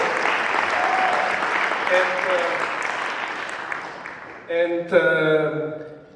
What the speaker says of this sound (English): she deserves a big round of applause